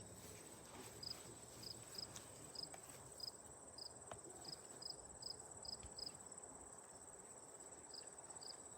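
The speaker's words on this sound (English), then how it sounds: "we have like a cricket serenading us over here" A cricket chirps outdoors during a live endurance challenge, in short, evenly spaced bursts of faint chirping over a constant thin high-pitched drone and soft ambient hiss.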